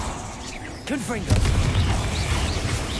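Casting Confringo in Hogwarts Legacy sets off a booming magical blast after a brief vocal sound, with a heavy crash followed by rolling low rumbles that linger to the end.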